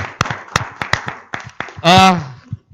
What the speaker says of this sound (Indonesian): Kasih tepuk tangan dulu dong.